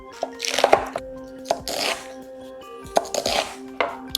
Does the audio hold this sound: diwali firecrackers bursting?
no